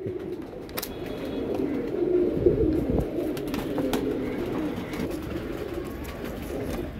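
Pigeons cooing close by, low soft repeated calls over a quiet background with a few faint clicks and rustles.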